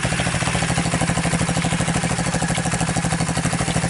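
An M2R KXF110 pit bike engine idles close by, a steady rapid chugging thump with a faint clatter and no voices.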